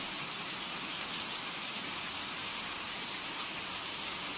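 Steady rain falls outside in a continuous, even hiss of drops hitting surfaces, with no voices over it.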